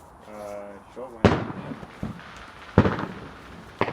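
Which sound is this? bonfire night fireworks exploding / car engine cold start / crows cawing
bonfire night fireworks exploding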